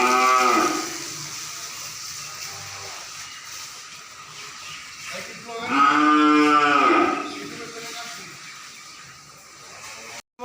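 Cattle and calves at a dairy farm in Savar mooing, two long loud moos close by over steady background hiss, like water spraying, with faint talk in between.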